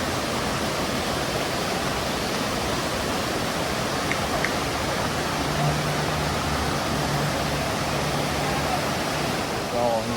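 Steady broadband rush of a waterfall in Jamaica, loud and continuous without a break, with a faint voice briefly audible beneath the roar.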